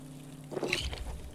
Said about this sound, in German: Aber hier, Wasser können wir mal eben auffüllen.